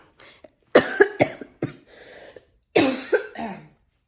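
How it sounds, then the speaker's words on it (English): Someone coughs several times in close succession, harsh and near, pauses briefly, then lets out another burst of coughs. "getting coughs like this. It's really weird."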